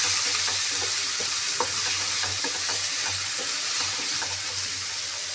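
Brinjal curry cooks on low heat in a pan under a constant hissing sizzle, with scattered soft scrapes and taps as a spoon stirs it through.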